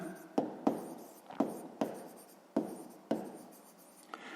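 A pen writes by hand on paper in a quiet room, making a run of six or seven separate scratchy strokes, each with a sharp start that fades out.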